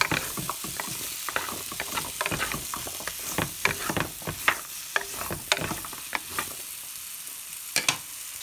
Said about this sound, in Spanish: lo voy a mover un poco para que se cubra de toda la mantequilla o el aceite de coco